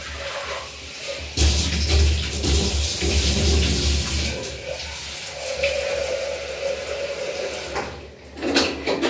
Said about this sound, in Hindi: दाल को धो दूँ।